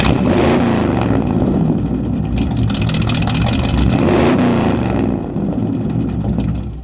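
A powerful V8 engine in a Buick Skylark muscle car revs loudly and continuously, its deep rumbling growl rising and falling with throttle blips, close up and with no voices.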